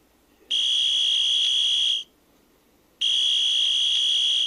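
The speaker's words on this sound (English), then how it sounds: "Once the button is depressed, you will hear a referee's whistle." A referee's whistle from a Static Soccer electronic table game sounds twice, each a loud, steady electronic tone lasting over a second, with a short gap between.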